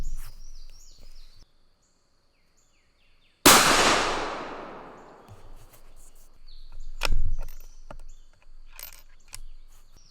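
A single loud rifle shot cracks sharply and decays over several seconds while fire-forming 6 PPC brass outdoors, preceded by faint clicks and near silence and followed by scattered handling noises and light ambient sounds.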